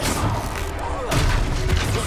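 Confringo blasting-spell explosions in the Hogwarts Legacy video game, a dense burst of booming impacts and crackling blasts in a chaotic battle, with several heavy thuds in quick succession amid loud combat noise.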